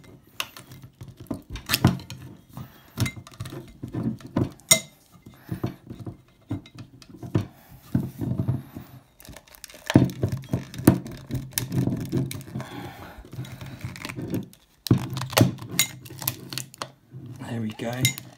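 A metal butter knife prying a BottleLox security device off a glass bottle, giving close clinks, scrapes and rattles in irregular bursts with short pauses.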